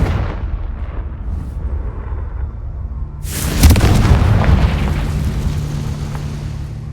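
In the Hogwarts Legacy video game, a Confringo fire spell bursts in a single loud, close explosion that tails off into a long roaring rumble, following a quieter low ambient stretch.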